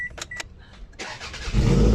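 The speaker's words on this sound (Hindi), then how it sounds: "ये गाड़ी स्टार्ट कर दी है, अभी थोड़ी देर में बंद हो जाएगी।" A Toyota RAV4 with a fault of no injector pulse, after its ECM was replaced, gives a few dashboard beeps, then cranks and catches into a loud, steady engine rumble up close.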